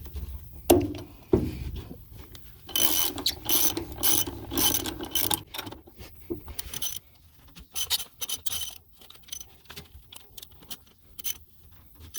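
A ratchet loosening the four fasteners on the tail wheel hub of a rotary cutter, heard as close bursts of quick metallic clicks in irregular strokes, separated by quiet gaps and small clinks.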